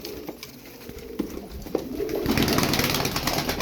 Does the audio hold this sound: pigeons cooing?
yes